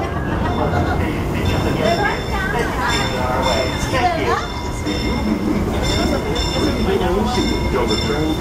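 Disneyland Railroad train rolling into New Orleans Square station, with steady rumble, faint wheel squeal and clinks heard close throughout, under ongoing chatter and announcements from people nearby.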